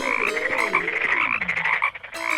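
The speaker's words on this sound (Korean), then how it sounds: "마술사들도 개구리를 올라오게 했어요." A dense chorus of frogs croaking steadily and loudly for the whole stretch, overlapping warbling calls in a plague-of-frogs scene set in a king's palace, with no voices.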